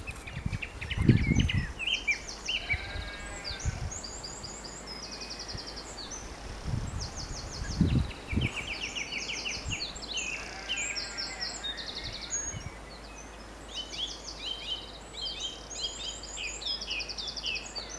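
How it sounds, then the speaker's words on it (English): Several birds sing and chirp continuously in bright, overlapping phrases in a permaculture garden in Ireland, with occasional low thumps and rustling nearby and no talking. "Aren't the birds happy?"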